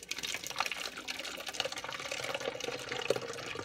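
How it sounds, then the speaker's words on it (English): Hot water pours steadily through a funnel into a bottle, a continuous close splashing, trickling fill with no talking. "I'm going to pour some water up to the line"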